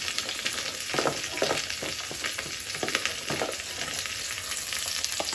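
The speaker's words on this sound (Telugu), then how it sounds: "ఇప్పుడు ఉల్లిపాయ పచ్చిమిర్చి ఫ్రై అయిపోయింది కదా, దీంట్లోనే కట్ చేసి పెట్టుకున్న ఆలు, క్యారెట్, బీన్స్, కాలీఫ్లవర్ వేసేద్దాం." Chopped potato, carrot, beans and cauliflower sizzle steadily in a pan with fried onion and green chili for a vegetable biryani, a dense continuous crackle with scattered sharper pops and occasional stirring scrapes, close and fairly loud, with no talking.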